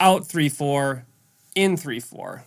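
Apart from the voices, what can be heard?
No everyday noises stand out.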